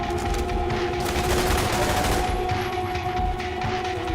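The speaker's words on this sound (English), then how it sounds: "SMG." A submachine gun fires in The Division 2 video game, a loud unbroken rattle of rapid shots running the whole way through, close and dense with a steady tonal hum under it.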